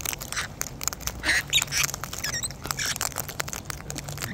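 Pet birds eating seed give high, thin squeaks and chirps in short bursts, with soft pecking and rustling of seed close by, no talk.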